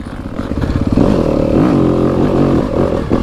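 Close, loud engine of a 2025 Yamaha YZ250FX off-road dirt bike being ridden on a trail, a raspy four-stroke buzz that climbs and revs steadily with rattling chassis clatter underneath.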